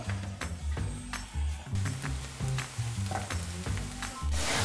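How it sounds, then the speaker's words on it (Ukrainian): Crackling sizzle of onions and mushrooms frying in a pan, close and steady, with repeated low scraping knocks from stirring. "Відправляємо цибульку смажитись, смажимо до золотистої скоринки"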